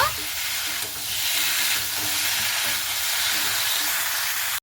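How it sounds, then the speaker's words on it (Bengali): Cauliflower and potatoes frying in spiced oil, a steady broadband sizzle that holds loud and even throughout with faint low stirring knocks beneath. "সেই আলু আর ফুলকপিটাকে আমি দিয়ে দিচ্ছি খুব ভালো মতো করে আলু ফুলকপিটাকে কষে নেব"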